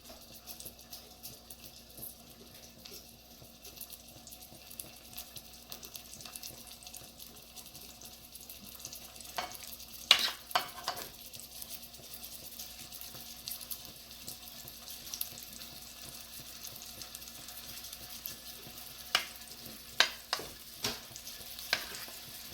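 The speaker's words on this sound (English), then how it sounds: "The oil's got to be hot because you want to sear it." Beef for a red-wine stew searing in hot oil, a steady low sizzle throughout with a few sharper crackles and spatters near the middle and end, close and moderately quiet with no talking.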